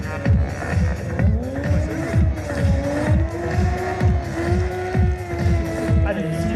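A motorcycle performs a stoppie 180 stunt at a drag power show, its engine droning and rising in pitch over a pulsing, throbbing roar. A public-address voice talks over it throughout.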